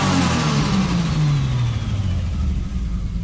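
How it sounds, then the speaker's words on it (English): A Toyota Supra engine is revved, its loud throaty note sliding steadily down in pitch as the revs fall away, close by with no talking. "And then you give it some of the loud pedal and she sounds epic."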